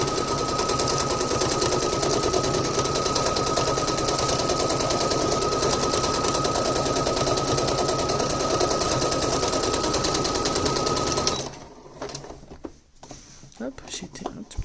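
Sewing machine stitching a fabric pencil case, a loud, fast, steady mechanical rattle running continuously for several seconds, then stopping, followed by quieter handling sounds.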